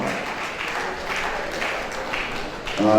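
Applause from an audience at a Lagos State University of Education event welcoming a speaker, a moderate, steady patter of clapping that grows slightly louder near the end.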